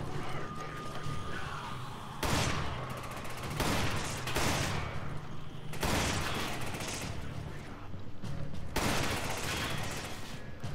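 Enemy gunfire in a co-op shooter video game, repeated bursts of rapid automatic fire in several loud volleys with short gaps, mixed with in-game background sound and no clear talking.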